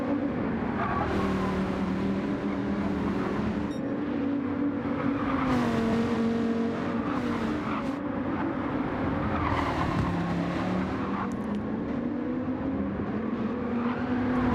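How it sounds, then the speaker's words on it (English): A pack of race cars streams steadily out of the pit lane onto the track, engines droning and rising and falling in pitch with faint tire squeal, loud and continuous with no talk. "So Ryder leading the pack of cars out from the pit lane."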